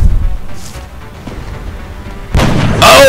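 A sniper rifle shot fires in the turn-based strategy game XCOM: Enemy Unknown, a loud, sharp, broadband crack with a booming tail near the end, following a quieter stretch of low rumble.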